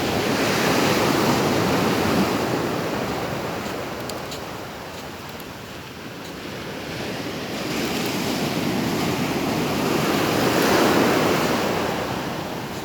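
Waves wash in at Alanya with a continuous roar of surf, swelling and easing, with some wind noise over the microphone.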